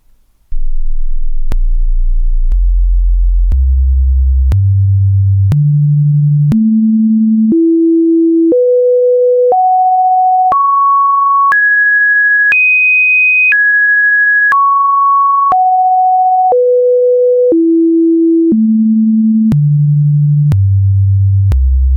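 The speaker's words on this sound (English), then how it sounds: "it produces a series of stacked third harmonics, which sounds like this." Pure synthesized tones built from stacked fifths step upward one at a time in a steady rhythm, climbing high before descending back down the same ladder, each note clean and sustained.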